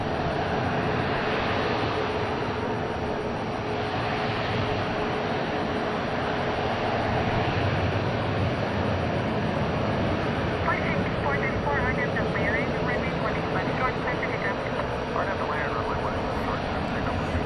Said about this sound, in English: Just waiting for Qantas Super here to take off back to Australia.